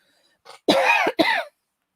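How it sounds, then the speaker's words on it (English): A short burst of coughing close up, two or three harsh coughs in quick succession, then silence. "Excuse me for coughing in your ear."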